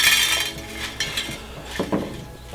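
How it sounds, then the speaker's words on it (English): Dried kowhai seed pods shaken in a bowl release their seeds with a close, busy rattle and clatter, hard little clicks against the bowl, a louder burst early and another near the end. "now they're nice and dry, the seeds come out fairly easily from the pods"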